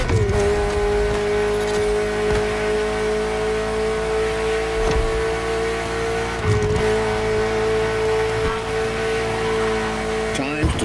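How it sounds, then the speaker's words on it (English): Ferrari F40 supercar driving in the video game The Crew Motorfest, its engine holding a steady, loud droning tone throughout, with brief gear-change dips and a few tire-squeal hints. "The Ferrari F40, second vehicle of the manufacturer to earn the prestigious supercar status"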